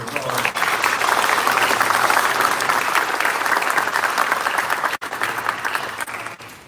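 A crowd claps steadily in sustained applause, dense and even, tapering slightly before a brief break and a final few claps.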